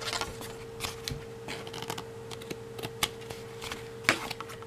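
Crisp, irregular snips and clicks of scissors cutting paper lace for a card, close and fairly quiet, with a faint steady hum behind.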